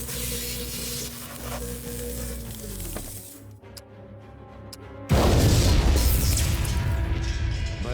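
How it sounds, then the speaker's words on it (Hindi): A huge explosion rips through a genetic lab in a film scene: after a low rumbling buildup and a tense near-silent pause, a sudden loud blast erupts into a sustained roaring, crackling wash. "भयंकर विस्फोट हुआ"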